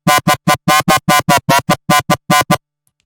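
Dry SynthMaster One growl synth with no effects, plucked in a series of about fourteen short, punchy, buzzy notes with clean gaps between them, ending in silence.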